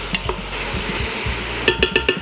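Beef stroganoff with mushrooms is stirred in a pan, giving several soft scrapes and a quick run of four sharp utensil clinks against the pan over a low background sizzle.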